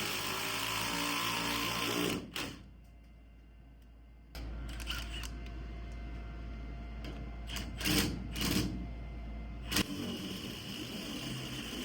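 Malco turbo shears snipping through sheet metal ductwork, with a steady machine-like hum at first and then a few sharp bursts of cutting near the middle and end.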